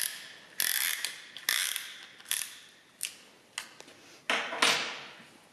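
Ratcheting clicks from a piston ring compressor being tightened around an engine piston during a Volvo B18 engine rebuild for an Amazon 123GT, about eight sharp bursts at irregular intervals, close and clear with no talk.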